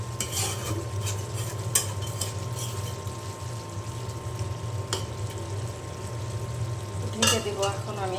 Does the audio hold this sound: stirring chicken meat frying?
yes